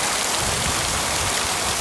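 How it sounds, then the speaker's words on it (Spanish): Heavy rain pouring down outdoors near a river, a dense, loud, unbroken hiss of water filling the whole moment, with no voices. "Está lloviendo fuerte."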